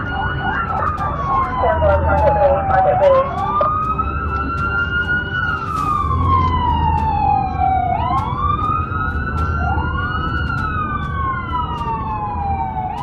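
A wailing police siren rises and falls in long slow sweeps, loud and close, with a second siren overlapping and traffic rumble underneath.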